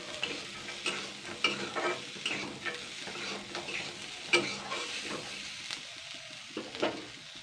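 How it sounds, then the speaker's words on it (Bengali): Raw peanuts frying in a pan for a Bengali peanut mash, giving a soft steady sizzle broken by irregular scraping and clinking as a utensil stirs them, quiet and close with no voices. "কাঁচা বাদামটা আমি এবারে দুই তিন মিনিট ভেজে নেব"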